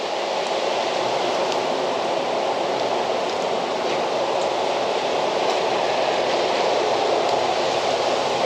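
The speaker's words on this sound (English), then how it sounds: "it's like totally raining outside" Heavy rain pouring outside during a storm, a dense steady hiss of falling water with no letup and no voices, close and loud throughout.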